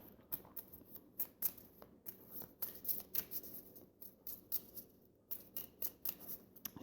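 Lenormand cards are shuffled and handled in a quiet room: a quick run of soft riffling, snapping and flicking bursts that come in irregular clusters, close and fairly faint, with no talking.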